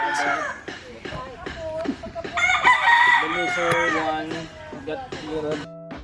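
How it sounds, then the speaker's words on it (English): Fighting cocks on a chicken farm in the Philippines crow repeatedly, several birds overlapping with loud, close cock-a-doodle-doo calls and some clucking, while a person talks briefly in the background. "this all fighting cock"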